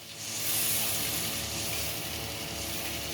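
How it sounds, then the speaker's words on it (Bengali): Potato paste mixed with spices being stirred into a frying spice base in a pan for an egg curry, giving a steady broadband sizzle and hiss that holds close and even throughout with no talk. "এবার খুব ভালোভাবে নাড়িয়ে নেব।"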